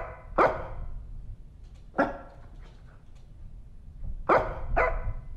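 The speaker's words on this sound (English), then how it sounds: "What you barking at?" A dog in a horror video game barks four times in sharp, separate bursts, fairly close and with pauses between them. A soft whimper comes between the barks, and no one speaks.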